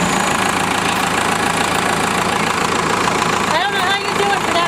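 Bulldozer engine running close by, a loud, steady rumbling drone with a rough knocking texture that holds throughout while someone talks over it.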